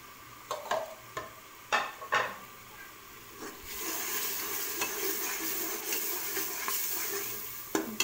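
A garlic, ginger and green chili paste fries in a pan as spices are added. A few sharp scraping stirs come first, then a sustained close sizzle with occasional spoon scrapes.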